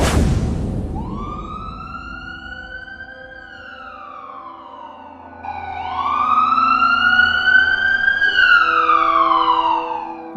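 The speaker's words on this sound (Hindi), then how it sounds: "बाबा के जाने की कुछ देर बाद एम्बुलेंस वहां पर आ जाती है।" Cartoon ambulance siren wailing as the ambulance arrives, two long rising-and-falling sweeps, the second louder and closer, with no talk over it.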